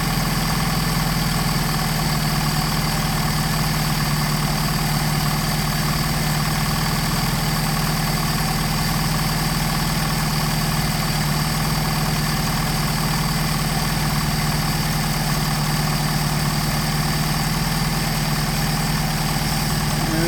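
A Mercedes 190SL engine idles steadily during a Solex carburetor test, a loud, even mechanical rumble with a constant low hum that holds unchanged for the full stretch, close and without voices.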